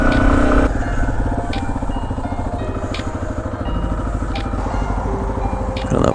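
A Yamaha XT250 motorcycle pulls away in second gear, its single-cylinder engine giving a loud, close, steady low thrum that shifts slightly in pitch as the bike gets moving.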